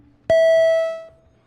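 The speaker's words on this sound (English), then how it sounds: "can we ring the bells, please?" A Senate chamber quorum call bell sounds once, a sharp, clear electronic tone that rings loudly for under a second and then fades, with quiet room noise around it.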